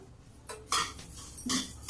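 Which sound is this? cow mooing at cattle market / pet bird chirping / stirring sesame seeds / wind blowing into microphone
stirring sesame seeds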